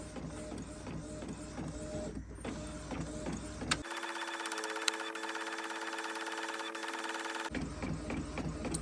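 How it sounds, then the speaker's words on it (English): A small inkjet printer prints sublimation pages, its carriage whirring and clicking in steady mechanical passes, then switching to a sustained tonal motor whine for several seconds before the rattling passes resume, close up with no talking. "And now it should be sent to the printer."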